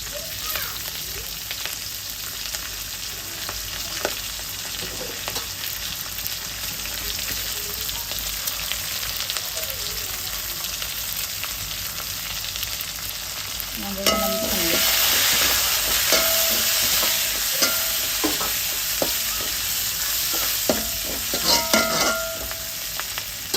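Onions, green chillies and tomatoes sautéing in a pan for a curry, a soft steady sizzle that swells louder halfway through, with clinking stirring strokes.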